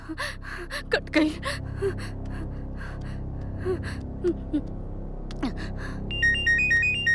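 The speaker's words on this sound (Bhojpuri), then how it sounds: "केकर फोन आवे?" A telephone ringtone chimes in a repeating electronic pattern near the end, after a stretch of gasps and breathy sounds.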